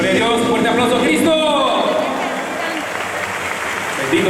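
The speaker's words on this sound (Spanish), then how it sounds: "fuerte aplauso a Cristo" A church congregation at a Catholic-style service claps steadily under a voice that keeps speaking or singing over it, with the clapping filling in as the voice fades.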